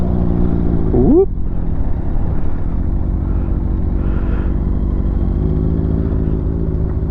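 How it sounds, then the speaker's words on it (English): A Royal Enfield Interceptor 650 motorcycle runs steadily under riding, its engine a constant low rumble with a brief rising rev near the start, close and continuous throughout. "we are on the Royal Enfield Interceptor 650. Nice little smooth action."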